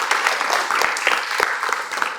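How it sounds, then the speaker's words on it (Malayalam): Group of beginner dance students clapping together in a dance school, a dense, sustained burst of applause that is steady and fairly loud for about two seconds. "clap clap clap"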